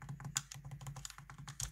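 Keys on a Microsoft Ergonomic Keyboard are pressed in a quick irregular run, each giving a light, crisp click, close up and alone.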